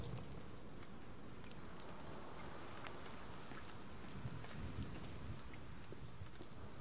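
Steady rain falls in the survival game The Forest, a faint continuous hiss with scattered drops and a low rumble underneath, unbroken and without any talk.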